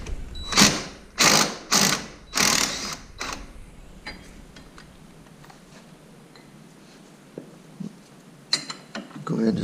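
A ratchet loosens 15 mm pinch bolts on an ATV front knuckle, four or five sharp rasping clicks in quick succession, then quiet handling noises and faint metallic taps.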